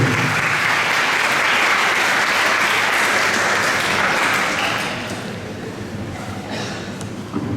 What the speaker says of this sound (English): let us have a big round of applause for our principal